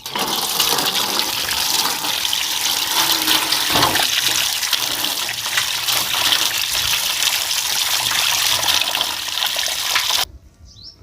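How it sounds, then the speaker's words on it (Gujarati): Mangoes being washed under a steady stream of running water, a continuous loud gushing splash filling the whole stretch before stopping abruptly near the end. "તો આને આપણે ધોઈ નાખશું વ્યવસ્થિત રીતે."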